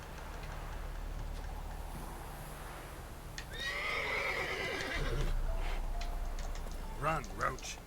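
Roach, Geralt's horse in The Witcher 3 video game, gives a loud neigh midway and later fainter snorts and hoofbeats, over a low rumbling game background with someone speaking.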